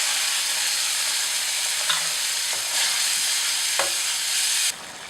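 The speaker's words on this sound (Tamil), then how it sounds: "இப்போ அரைச்சி வச்சுருக்க சட்னியை இதில் போட்டு நல்லா பச்சை வாடை போகிற வரைக்கும் கொதிக்க விடுங்க." Chilli-tomato chutney (kaara chutney) simmering and sizzling in a pan while a spoon stirs it, with a steady fry hiss and a few scraping strokes, and no voices.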